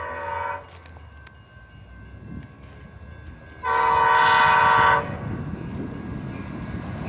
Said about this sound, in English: here comes San Joaquin Train 716